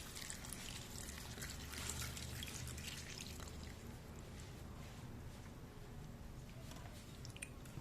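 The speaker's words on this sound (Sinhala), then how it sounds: "අපි දැන් මේකට දිය කිරිත් දාලා තැඹෙන්න තියමු" Diluted coconut milk is poured into a pan of raw peanut curry, making a steady, close trickle and splashing liquid sound that runs throughout without any talk.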